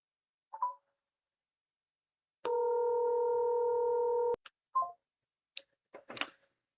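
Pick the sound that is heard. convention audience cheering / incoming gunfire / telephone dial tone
telephone dial tone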